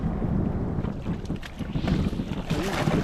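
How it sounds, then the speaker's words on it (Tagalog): Strong wind buffets the microphone at sea beside a fishing boat, a steady rushing roar with gusts and water noise throughout. "Lakas. Ang hangin."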